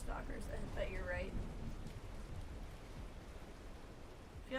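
Steady rain in the video game Starfield hisses as a broad, even wash of noise at moderate volume, with voices talking briefly over the start and end.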